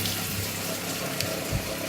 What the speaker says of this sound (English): this pump is super cool for evacuating a sink really quick